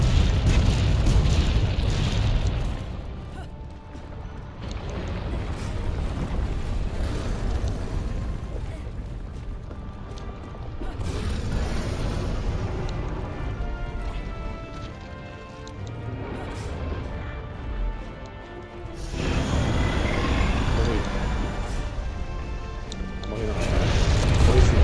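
Cannon fire in the video game Monster Hunter World, deep rumbling booms and crashes rolling on continuously in loud waves with brief dips.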